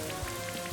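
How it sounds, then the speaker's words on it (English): Rain from the Rain Dance move in the video game Pokémon Shining Pearl patters as a dense, even hiss of falling drops, with a low tonal hum of game music running underneath. "It's raining indoors now."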